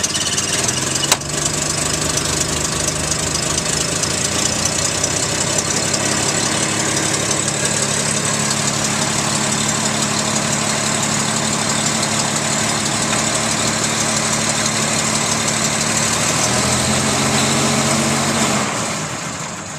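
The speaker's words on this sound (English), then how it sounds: "I'm going to hit this starter button on the floor with just my thumb for now." A 1921 Paige car engine cranks over on its floor starter, catches and settles into a steady, loud idle heard close up, with slight throttle changes shifting its pitch near the end.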